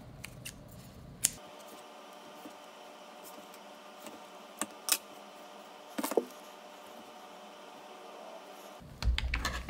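Scissors snip off the ends of cardboard strips in a quiet room, a few sharp separate cuts with faint handling rustle between them.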